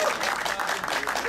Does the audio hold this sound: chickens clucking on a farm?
no